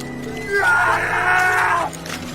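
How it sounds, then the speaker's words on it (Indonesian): A man's strained scream rises and holds for over a second, loud and close, then cuts off, with a low hum underneath. "Tentu saja teriakan si cowok terdengar oleh si Eneng."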